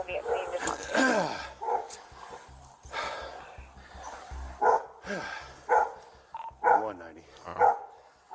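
Dogs bark and snarl in bursts during a police animal-attack incident, heard amid radio chatter and a voice speaking, the barks loud and uneven, growing denser toward the end.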